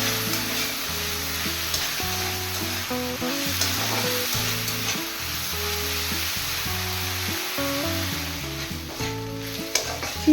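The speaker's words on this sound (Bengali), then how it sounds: "চিংড়ি মাছ 2 থেকে 3 মিনিট ভালো করে ভেজে নেব।" Prawns frying in a hot pan for a Bengali prawn and taro-stem dish, giving a steady, loud, continuous sizzle close to the pan, with stirring, and no voices.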